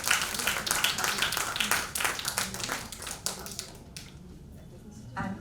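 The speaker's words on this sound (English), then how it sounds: "a round of applause for that." An audience at a formal conference session applauding, a dense patter of hand claps that stays steady for several seconds, then thins out and fades to a few scattered claps.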